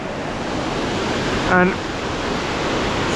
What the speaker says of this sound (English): All the water coming down from the mountains, coming here, going here,